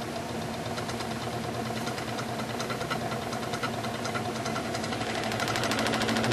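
A repurposed shop tool spins a jar packed with ball bearings, giving a steady mechanical whir with a dense rattling, knocking texture that runs continuously at close range and grows slightly louder near the end.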